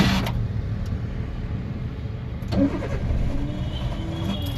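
A car engine turns over and catches, then settles into a steady idle rumble nearby.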